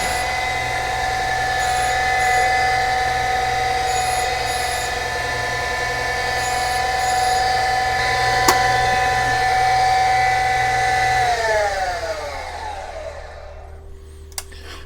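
A Black Diamond drill grinder removing metal runs with a steady high-pitched motor whine and faint grinding contact, then winds down near the end, followed by a couple of small clicks.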